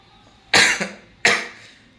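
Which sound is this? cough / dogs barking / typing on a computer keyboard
cough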